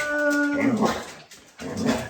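A dog whimpering and whining up close in high, drawn-out tones, with two short bursts separated by a brief pause.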